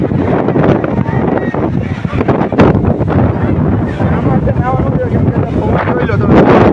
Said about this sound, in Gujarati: જો પવન બહુ જાજો છે અત્યારે,